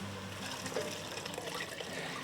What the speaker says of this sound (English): So now we can add 6 cups of water.